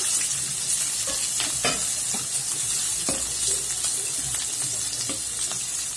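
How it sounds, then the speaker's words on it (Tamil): Large onion sautéing in a pan for spicy Indian-style pasta, a continuous bright sizzle with scattered stirring clicks and scrapes throughout, no voices. "இந்த வெங்காயம் கொஞ்சம் வதங்கணும்"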